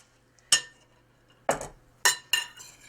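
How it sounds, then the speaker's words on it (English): An egg being lightly beaten in a bowl for a cheddar cornbread-tomato bake: four sharp clinks of a utensil striking the bowl, spaced irregularly and heard close up with no talk. "I want to lightly beat an egg."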